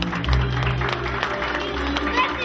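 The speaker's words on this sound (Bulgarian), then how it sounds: "И аплодисменти за кумата." A wedding crowd applauds continuously, a dense wash of clapping mixed with some background voices and room noise.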